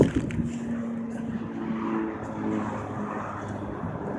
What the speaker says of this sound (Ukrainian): Мотоциклісти їдуть